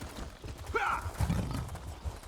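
A horse in the video game Elder Scrolls Online clops its hooves and gives a brief whinny at close range. The sounds are short and loud over a faint game ambience.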